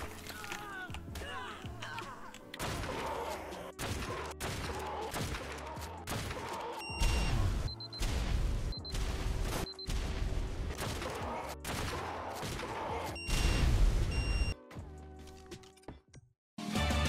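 Gunfire in the survival game Ark: Survival Evolved, with bursts of rapid shots and heavy thuds coming in waves, close and loud, while players talk over the action.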